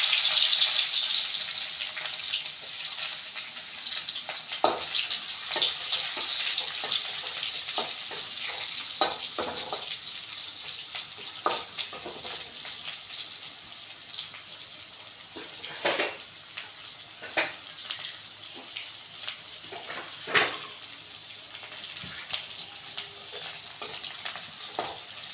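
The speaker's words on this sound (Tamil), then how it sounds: "ஸோ கட் பண்ணி வச்சுருந்தா வெங்காயத்தை போட்டுடலாம்." Chopped onions sizzle and fry in a pan while cooking kovakkai poriyal, with a steady hiss and occasional stirring clicks, close and fairly loud throughout with no talk.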